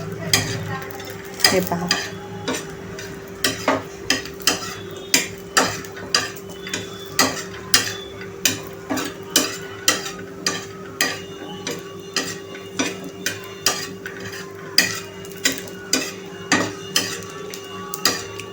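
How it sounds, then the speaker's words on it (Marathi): Grated coconut dry-roasting in a pan for a potato curry paste, stirred steadily with a utensil that taps and scrapes the pan in a regular rhythm, close and clear, with a brief spoken word. "खोबरं पटकन करपतं, त्यामुळं सतत ह्याला हलवत राहा व्यवस्थितपणे।"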